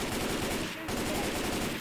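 Rapid gunfire from weapons in the zombie shooter Left 4 Dead 2, a dense continuous burst of loud shots filling the whole stretch with only a brief dip partway through, no voices over it.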